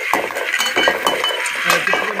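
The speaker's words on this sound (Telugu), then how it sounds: "తిప్పుకుంటూ ఉండాలండి" Prawn fry being stirred in a pan, with repeated metallic scrapes and clinks of a spatula against the pan in an uneven rhythm, close and fairly loud.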